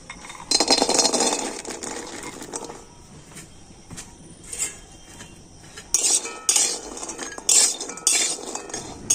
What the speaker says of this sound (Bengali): প্রথমে আমি খালি কড়াতে কাঁঠাল দানাগুলো দিয়ে দেব।